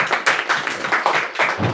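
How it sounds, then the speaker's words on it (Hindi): Applause for a student at an AC PCB repair training institute, a short burst of dense hand clapping lasting under two seconds, fairly close and steady with no talk over it. "तो चलिए एक बार इनके लिए फिर से दोबारा ताली।"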